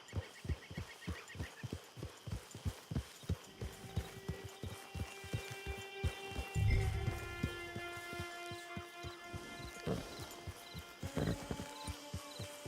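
Horse hooves clip-clop in a steady, evenly spaced rhythm in the Red Dead Online video game, close and distinct, with a louder thump midway and tonal game music drifting underneath.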